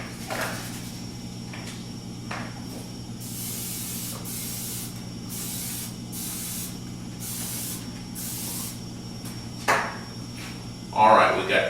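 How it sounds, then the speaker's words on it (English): A can of non-stick cooking spray hisses onto a muffin pan over a kitchen sink, six short even bursts in a row, close and clear above a steady low hum, followed by a few clunks. "we want to spray our pan with some non-stick oil of some sort"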